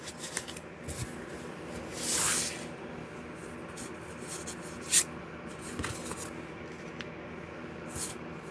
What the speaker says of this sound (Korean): 카드 5장을 선택할게요.